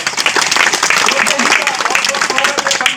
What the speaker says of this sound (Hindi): उनकी ये जोरदार तालियों से स्वागत करें